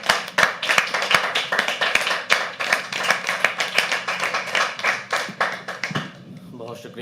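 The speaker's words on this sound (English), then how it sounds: "can we have a huge round of applause and welcome on stage" A live audience at a poetry open mic at The Habitat claps continuously to welcome a performer to the stage, dense and loud with sharp hand claps throughout, fading out near the end as talk begins.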